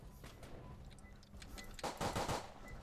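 Rapid gunfire in the Roblox game Edward the Man Eating Train crackles in quick bursts, faint at first and then louder, with a dense volley of shots near the end.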